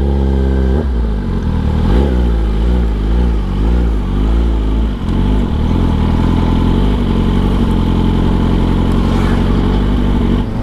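Kawasaki ZX-10R sport motorcycle engine runs loud and close, its tone rising and falling as the rider turns the bike around, with a steady underlying rumble and no talk.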